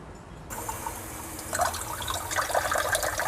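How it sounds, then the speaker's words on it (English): Piper crocatum cuttings lowered into a container of water, giving soft splashing and trickling that starts abruptly and continues, close up, with a few brighter sloshes toward the end. "So I'm just going to put them in water and we will see what comes out of it."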